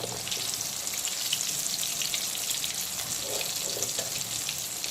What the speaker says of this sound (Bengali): এখন এই আলু ভাজার তেলেই দিয়ে দেব হলুদ মাখানো পটল পটলগুলোকেও খুব ভালো করে ভেজে নেব